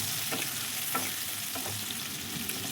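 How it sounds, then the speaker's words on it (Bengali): Chopped ginger, onion and green chilli fry in a pan for a cabbage chicken momo filling, a steady close sizzle with a few soft stirring scrapes and no voices. "এবার এটাকে একটু ভেজে নেব"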